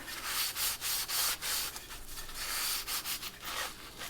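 Crust is scrubbed off a 1930s Sears Junior lantern in quick, uneven back-and-forth strokes, each a close, gritty rasp separated by brief pauses, with no voices.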